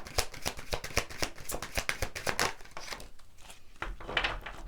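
Tarot cards are shuffled by hand in quick riffling bursts, crisp close-up flicks repeating in a rapid rhythm, then a brief pause before more shuffling.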